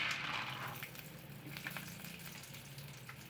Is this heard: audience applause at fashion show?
no